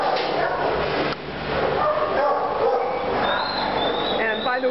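Dogs bark and yip from the front kennels of an animal shelter, a steady chorus of close and distant barking with some whimpering, while a person talks over it throughout.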